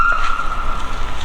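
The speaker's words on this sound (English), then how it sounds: "Sirens again." A police car siren in a street in Pamplona, Spain, wails as a steady high tone through the short stretch, moderately loud over a background of constant city noise.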